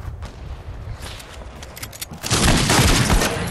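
Gunfire in the Fortnite video game: a burst of muffled game sounds, then a loud, sustained crackle of shots and impacts that fills the last second and a half.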